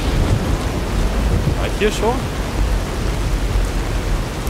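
A thunderstorm with rain rumbles in Fallout: New Vegas, a broad steady roar of rain and low thunder while someone speaks briefly over it.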